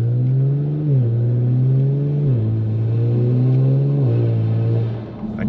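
A car pulls away from takeoff with paddle shifting, its engine droning steadily upward and dipping at three quick upshifts, close and loud with no talk.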